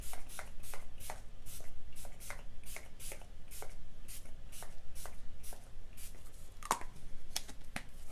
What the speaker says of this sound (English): Let me go ahead and set my face really quick with my Urban Decay All Nighter spray.